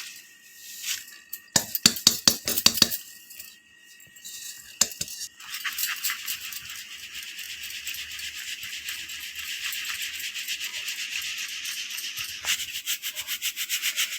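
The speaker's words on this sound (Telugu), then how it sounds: "ఈ విధంగా మనము జల్లెడ పట్టుకోవాలి." Ground roasted rice flour is shaken and rubbed through a sieve. A few sharp rattling bursts open the clip, then it settles into a steady, close scraping and sifting hiss.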